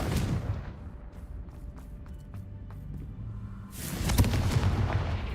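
Confringo spell explosions in Hogwarts Legacy, a loud burst at the start and another blast near the end, separated by quieter game ambience.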